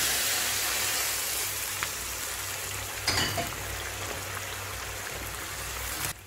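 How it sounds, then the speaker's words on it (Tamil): Boiled water hisses and sizzles as it pours into a pan of washed broken rice, a steady rushing splash with a few brief clinks. "கொதிக்க வச்ச தண்ணி சேர்த்துறேன்"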